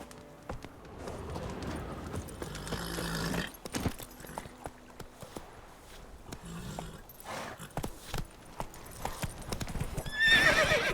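Horse hooves clip-clop steadily in The Witcher 3 as the mount sets off, with a whinny toward the end over a game soundscape.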